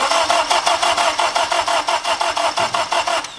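A turbocharged 8th-gen Honda Civic engine cranks for its first start, a loud, close run of rapid, even starter pulses churning steadily for a few seconds.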